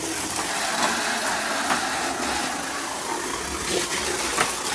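A small Tamiya stock electric motor in a toy car, heavily greased, whirs steadily with a constant buzzing hiss, close by and fairly loud, with no talking.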